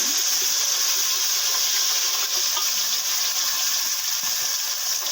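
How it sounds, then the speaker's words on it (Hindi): Ground onion sizzles in a pan for a korma with eggs and potatoes, a steady, close hiss of frying that runs evenly throughout with no talk. "इसके बाद ये मैंने प्याज डाल दी पिसी हुई।"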